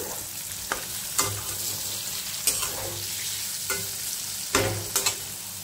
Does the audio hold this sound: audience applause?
no